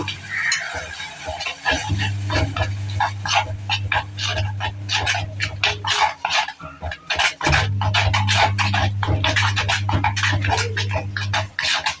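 A spoon stirs a curry mixture in a pan during cooking, making a rapid run of close, rhythmic scraping strokes with a faint sizzle, over a steady low hum.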